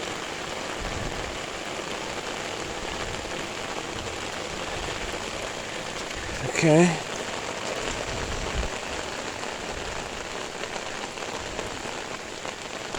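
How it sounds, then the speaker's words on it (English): Steady rain falls on a car during a wash, a continuous even patter of drops on the surface throughout, with a short brief bump midway; a voice speaks briefly. "Let the rain kind of rinse the car."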